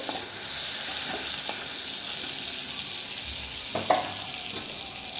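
Shrimp frying in oil in a pan, giving a steady, moderate sizzle throughout with a few light clinks and stirring knocks near the end; no voices.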